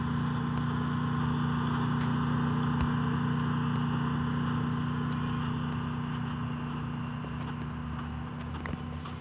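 A car engine from the Free Fire battle royale game drones steadily throughout at moderate distance, a low hum with faint scattered ticks and footsteps, fading slightly near the end.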